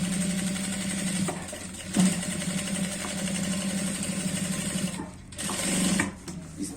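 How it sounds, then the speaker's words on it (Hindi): A sewing machine runs almost without a break as it stitches the fly of a pair of trousers, a steady close mechanical whir with a short pause near the end. "यहाँ पर हमें एक सिलाई लगानी होगी लब की इस तरह से"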